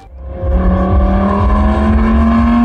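A loud tuned car engine at a car tuning show revs up and holds a high, steady roar, its pitch climbing slightly, close by and alone.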